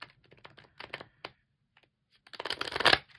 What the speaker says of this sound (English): This really is the only way to shuffle them.